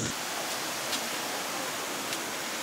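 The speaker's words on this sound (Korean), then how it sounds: "파도 엄청 센데?" Strong waves at an uncrowded hot spring water park in Hainan make a steady, loud, broadband rush of churning water, like surf or a waterfall, with no voices.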